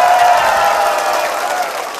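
A studio audience at a Vietnamese TV comedy show breaks into loud, sustained applause with crowd cheering, a dense wash of clapping that fades slightly over two seconds.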